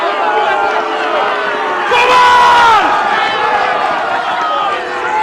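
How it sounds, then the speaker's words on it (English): A large stadium crowd roars loudly and steadily, swelling to a louder burst partway through, with a voice audible over the din. "Listen to the roars!"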